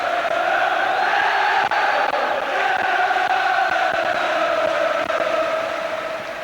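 A football stadium crowd at a Liverpool vs Celtic UEFA Cup first-round second-leg match roars and chants, a loud, sustained, dense wall of voices that stays constant throughout.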